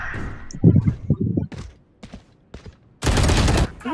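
Gunfire in a tactical video game shooter, a burst of sharp shots early on, isolated bangs in the middle and a dense loud volley near the end, with no talk over it.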